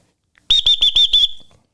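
A coach's whistle gives a quick run of five sharp, shrill blasts in rhythm, the last one trailing off, loud and close with nothing else heard.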